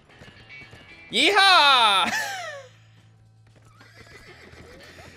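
A horse neighs loudly in a long descending whinny, with hoofbeats clip-clopping, in the prison-escape video game The Escapists 2; someone shouts briefly and talks over the game sounds.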